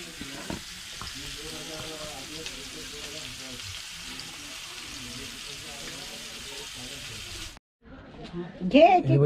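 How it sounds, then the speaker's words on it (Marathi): Mackerel fry in hot oil in a village kitchen, producing a continuous crackling sizzle under a person talking, then a brief pause followed by a louder burst of clatter near the end. "मित्रांनो आपलं मस्त की बांगडा फ्राय झाल्यात"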